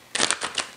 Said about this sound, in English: Let's shuffle them pretty good here.